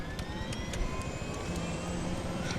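A Battlefield 3 helicopter in multiplayer gameplay drones with a loud, steady engine and rotor roar close by, alongside faint higher whines and some brief intermittent knocks.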